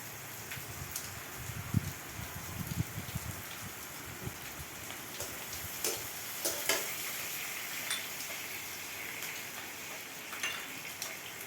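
Onions fry in a pan with a soft, steady sizzle and scattered faint crackles and pops that continue unbroken for the whole stretch.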